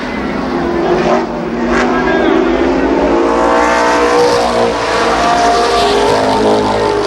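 ARCA Pro 4 race cars at Columbus Motor Speedway in 1993 race past in a loud, continuous engine drone with pitch shifting as they accelerate through the turns, while a commentator talks over the action.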